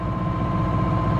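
A sailboat's inboard engine motors at about 4 knots under 2,000 revs through the Kiel Canal, a steady low droning hum with no talk.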